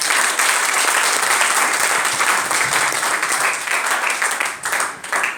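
Audience at a direct-selling seminar in Sirsa bursts into loud, sustained clapping, dense and continuous from many hands, fading slightly near the end.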